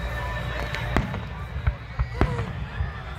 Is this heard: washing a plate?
no